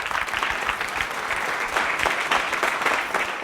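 An audience at a school Thirukkural speech event claps a steady, continuous round of applause, close and fairly loud, with no talking over it.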